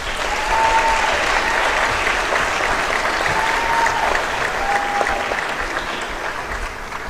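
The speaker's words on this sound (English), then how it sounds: "Please join me in giving a round of applause to our senior award recipients" An awards ceremony audience gives senior award recipients a loud, sustained round of applause, a dense steady roar of clapping that eases slightly toward the end.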